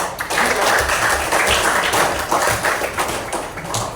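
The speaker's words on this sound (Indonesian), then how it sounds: "tepuk tangan buat" Schoolchildren in a classroom clap together in a burst of applause, dense and fairly loud, with scattered voices mixed in throughout.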